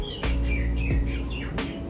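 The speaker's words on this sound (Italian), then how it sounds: "Ma lo sentite questo uccello?" Birds chirp outdoors in several quick, bright bursts spread across the moment, clear and fairly close, with a steady low background hum underneath and no talking.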